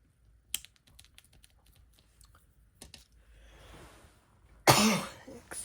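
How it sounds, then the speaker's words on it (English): Light clicking and tapping sounds, then one loud close cough near the end, followed by a brief rustle. "Excuse the cough."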